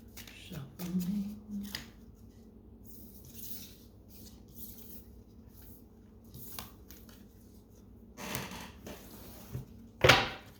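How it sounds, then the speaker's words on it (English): A deck of reading cards is shuffled by hand in a quiet room, soft papery riffles and slides in scattered bursts with a louder flurry at the start and a sharp snap near the end. "Shuffling."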